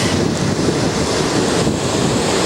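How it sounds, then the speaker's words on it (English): Strong wind gusts across a damp sandy beach in New Zealand, buffeting the microphone with a loud, continuous roar and possible surf underneath, with no voices. "And we're in a windy spot"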